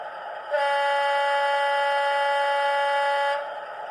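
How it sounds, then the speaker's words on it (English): A Bachmann Class 46 model diesel locomotive with LokSound V5 DCC sound sounds its horn, a single loud sustained tone held for about three seconds, then cut off cleanly. "So you've got the usual playable horn,"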